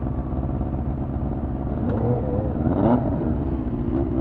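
A Honda CB400 Super Four motorcycle engine rumbles in traffic, rising into a brief rev near the middle, steady and moderately close with no talking.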